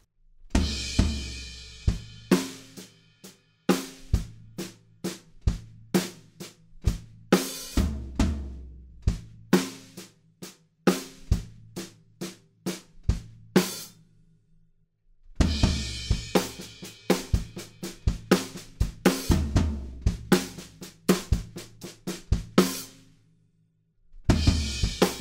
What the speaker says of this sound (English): There's a lot of double-handed stuff going on and we want to try and catch some floor toms as well.